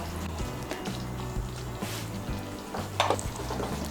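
Pointed gourd do pyaza curry is stirred and mixed in a pan, giving a soft steady sizzle with wet scraping and squishing strokes and a few louder clinks, close and continuous with no talk.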